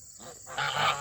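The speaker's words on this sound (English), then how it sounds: "Hello, geese." Geese in a summer garden give a short burst of nasal honking, close and fairly loud over soft outdoor background noise, lasting about a second.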